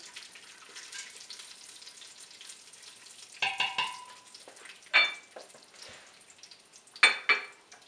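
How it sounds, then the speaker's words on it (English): Almonds frying in a pan for Lebanese rice, a soft steady sizzle with a few sharper scraping clatters of stirring near the middle and end, no voices. "Half a cup of almonds. Stir a bit."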